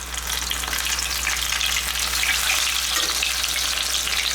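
Chicken fried steak sizzles steadily in hot oil, a dense crackling hiss that stays loud and constant throughout, with no voices.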